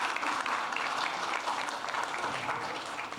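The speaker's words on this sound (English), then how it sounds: "Can we have a huge round of applause for her?" Dense, sustained applause from a crowd at a product launch event, many hands clapping steadily and loudly throughout.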